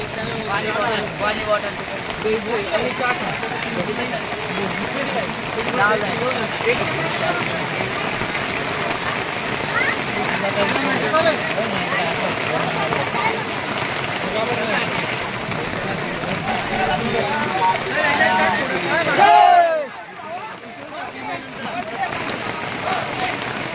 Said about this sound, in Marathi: पाऊस गरजत आहे, पाऊस पडत पण आहे.